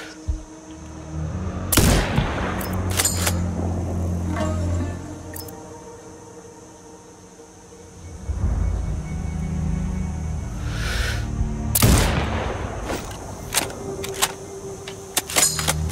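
Sniper rifle shots in the video game Sniper Ghost Warrior Contracts 2, two sharp loud cracks several seconds apart, each trailing into a low rumbling echo, with faint clicks of reloading and game ambience between.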